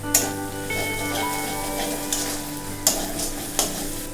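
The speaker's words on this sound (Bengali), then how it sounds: "আমি আর একবার একটু নাড়িয়ে দেব।" Masala fries in oil in a pan for a katla fish curry while it is stirred. A loud, steady sizzle runs throughout, with a few distinct scraping knocks of the spoon and no talking.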